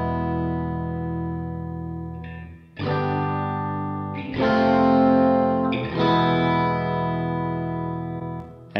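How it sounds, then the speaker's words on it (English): Sustained electric guitar chords ring out drenched in a large reverb effect in Reaper, each strum blooming into a long washy tail, with a few chord changes over several seconds. "We can you know, set it to a much bigger reverb sound"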